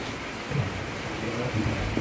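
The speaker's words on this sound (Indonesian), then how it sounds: "Kayak hujan." Rain falls steadily as a dense, even hiss with faint low rumbles. It sounds moderately loud and continuous, with no clear voices.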